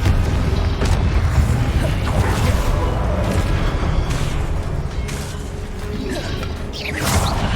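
Confringo explosive spell blasts going off in the Hogwarts Legacy video game, a dense, loud churn of bursts and rumbling combat noise that runs steadily throughout.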